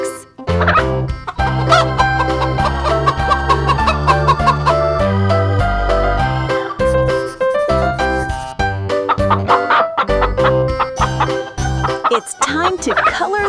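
A playful cartoon chicken clucks and squawks over bouncy, busy background music. The clucks come in quick, lively bursts throughout.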